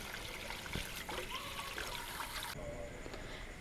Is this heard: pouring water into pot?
yes